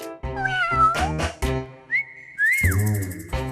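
Domestic cats in a stone-walled house on Jeju Island give a run of several distinct, loud meows close by, rising and falling in pitch with short gaps between them.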